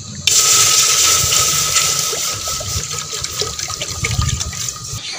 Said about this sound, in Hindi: इहदे विच हुण असीं पावांगे पानी।